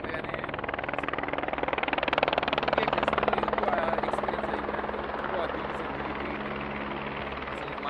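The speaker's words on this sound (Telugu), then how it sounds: "హెలికాప్టర్ ఎక్కితే బాగున్నా అనిపిస్తుంది" A helicopter flies over Gulmarg in Kashmir, its rotor producing a loud, continuous throbbing drone that swells slightly and then eases off.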